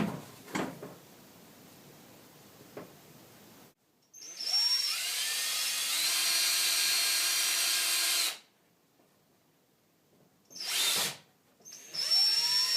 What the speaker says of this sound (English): go ahead and drill the hole back in it.